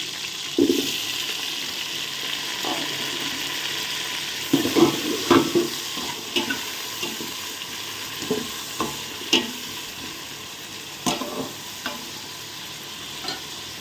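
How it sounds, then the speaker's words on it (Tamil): Onion and tomato fry in a pan for sambar, a steady hiss beneath intermittent clinks and scrapes of stirring spaced through the stretch, fairly close and with no speech. "வெங்காயம் நல்லா வெந்துட்டு வருது அடுத்தது வந்து இப்போது நான் தக்காளி குழப்ப போட போகிறேன்"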